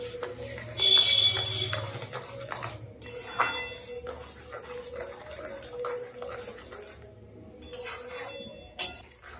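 Cooked raw mango pulp and sugar stirred in a pan for homemade amsotto gives quiet, irregular scrapes and light clinks of a spoon against the metal, with no talking.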